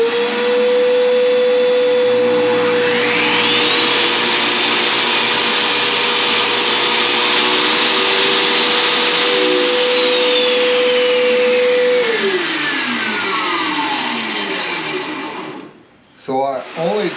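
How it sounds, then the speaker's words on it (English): A dust vacuum roars steadily while a table saw spins up and rips along the edge of a wooden cutting board, the blade tone rising then winding down near the end; no talk during. "Let's get this in the saw and joint it."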